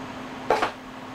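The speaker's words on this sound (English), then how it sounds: "1 large can of diced tomatoes. I'll just dump that right in there." A large can of diced tomatoes dumped into a soup pot, giving one short wet plop and slosh that fades quickly against a steady low background hum.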